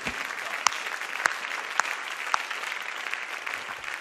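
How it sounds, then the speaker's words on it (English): Worshippers in a church clap their hands in unison, a full, continuous crowd of claps with a few sharper accents standing out at the start of the stretch. "Let's clap our hands to the Lord in faith."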